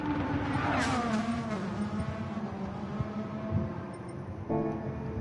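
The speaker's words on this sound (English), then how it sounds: "That's an LS7 engine in there." A Mazda Miata fitted with an LS7 Corvette V8 in a video game revs and accelerates, its engine note sweeping upward then settling into a steady drone, with a fresh rising rev near the end; moderately quiet.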